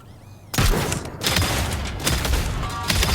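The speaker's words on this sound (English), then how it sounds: "the hidden chest cannons are like tank cannons" Hidden chest cannons, likened to tank cannons, fired by a mech in the Trailmakers video game: a sudden loud blast after brief quiet, then a sustained rumbling barrage of booming shots continuing to the end.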